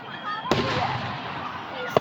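A firework bursts sharply about halfway through with a crackling tail, and a second quick bang lands near the end, while voices chatter and cheer underneath.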